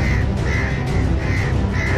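Crows caw repeatedly in Badarwas, Shivpuri, with four evenly spaced harsh calls rising over a steady loud background noise.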